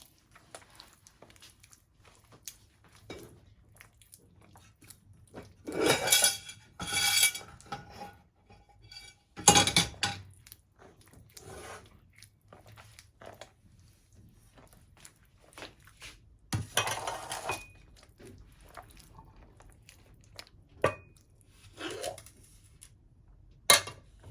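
Cookie dough of sesame, eggs and sugar is mixed in a bowl, with intermittent scraping, knocking and clinking of a utensil against the bowl in irregular bursts over quiet pauses.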